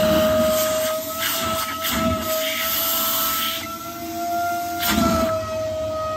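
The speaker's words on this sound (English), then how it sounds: "Let's fire the vacuum up." A vacuum runs steadily while unblocking a stubborn drain, a continuous hissing roar with a sustained whining tone that holds level throughout, with slight surges in strength.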